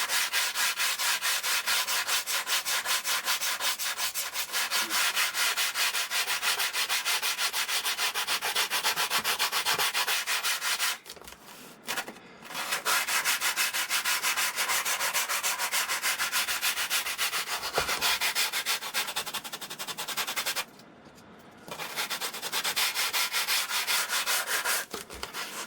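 A sandpaper block is rubbed by hand over the wooden parts of a scratch-built RC X-Wing slope soarer, giving a close, continuous rasping scrape in quick back-and-forth strokes, broken by two short pauses.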